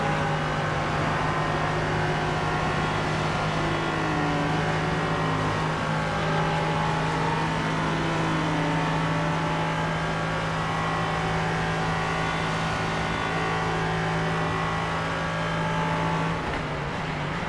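LMP3 prototype race cars passing on track during an endurance race, a continuous loud engine drone with a steady tonal hum and shifting pitch as the cars go by, no talk.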